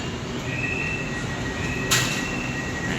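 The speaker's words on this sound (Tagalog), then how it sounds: "Ito yung LRT na sinakyan natin kanina." An LRT light rail train in Manila rumbles steadily nearby, with faint squealing wheel tones and a sharp hiss burst partway through.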